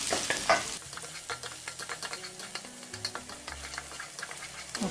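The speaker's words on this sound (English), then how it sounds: "just cook the garlic until it's a little bit golden brown" Garlic and onion stir-frying in a pan, cooked until golden brown for stir-fried eggplant, with a close, steady sizzle broken by repeated quick scraping stirs in an even rhythm.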